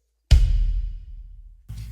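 A single kick drum hit with a large arena reverb effect, a loud deep thump followed by a long booming tail that rings out and slowly fades, with another hit starting at the end.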